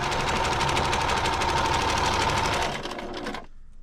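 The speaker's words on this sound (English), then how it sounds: "I'm just sewing on the hole around the entire edge." A sewing machine stitches around the edge of an old T-shirt being made into a cleaning cloth, running in a fast, steady mechanical chatter that slows and stops near the end.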